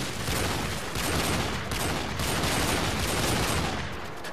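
Gunfire in Call of Duty 4 rattles in dense, overlapping bursts, loud and continuous, forming a noisy barrage of shots with no talk.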